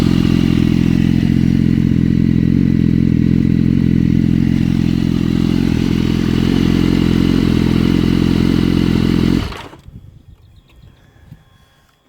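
A 2013 Granite Grey BMW S1000RR idles close by with a loud, steady low rumble for about nine seconds before the engine is cut off and falls abruptly to near silence.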